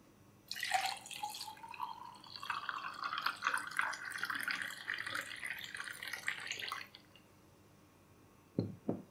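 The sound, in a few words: pouring sattu sharbat into a glass with ice cubes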